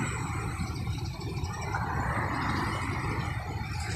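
Mercedes-Benz PMTO long-distance bus engine running steadily at a rest stop near Palembang, a continuous low rumble with broadband noise throughout, no clear revving.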